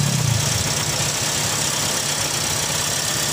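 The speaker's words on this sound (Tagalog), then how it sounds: "Grabing palyado. Grabing init oh. Grabing palya." Toyota Vios dual VVT-i engine idling roughly and misfiring, a loud, close, continuous drone with an uneven, stumbling pulse.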